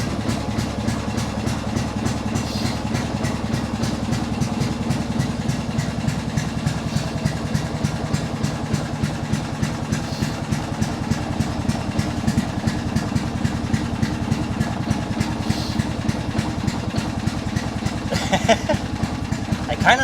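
An old vehicle engine idles steadily for the whole stretch, a low, even chugging putter close to the microphone that sounds somewhat like an old boat motor, with no voices over it.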